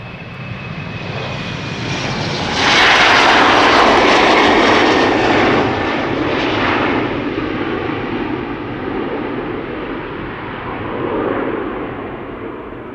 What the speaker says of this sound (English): SAS to Oslo, Embraer 195, regular Embraer 195, 15 years old.